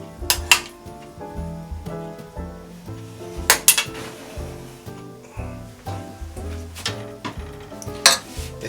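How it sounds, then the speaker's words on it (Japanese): A roast chicken being basted with hot oil in a home kitchen: repeated bright sizzles and spatters flare up over clinks of a spoon against the pan, with scraping and stirring noises between bursts, close and fairly loud, no talk. "何回かこうして油をかけます。"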